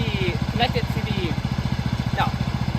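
A lawn tractor towing a Gorilla dump cart runs at a steady, close idle-like chug with a fast, even pulse, while a person talks over it.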